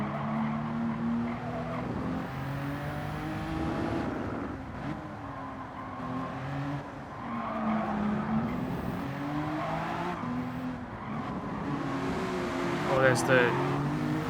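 An Alfa Romeo Giulia races in Gran Turismo 7, its engine droning and shifting pitch steadily with tires squealing through corners, loud and continuous, with someone talking over it.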